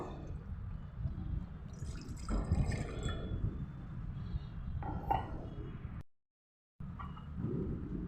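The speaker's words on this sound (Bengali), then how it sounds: "আমি এক কাপ দুধ দিয়ে দেবো" Milk pours into a pot in an uneven liquid stream, with splashing and dripping that swells and fades, then cuts out briefly before resuming.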